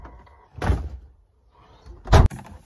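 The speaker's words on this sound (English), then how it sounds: "Maybe I lock the door." A door is worked twice: a first rattling knock, then a sharper clunk of the latch or lock, both close and loud.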